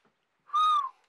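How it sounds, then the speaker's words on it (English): A single short whistle rings out in a dark theatre backstage, one clear steady note lasting about half a second and gliding slightly downward at the end, heard alone. "Don't whistle!"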